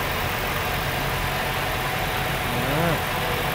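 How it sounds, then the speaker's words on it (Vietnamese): A 2013 Toyota Innova V idles steadily at close range, a constant mid-low engine hum with no speech over it, and a brief faint tonal chirp near the end. "xe nổ máy rồi đó quý vị"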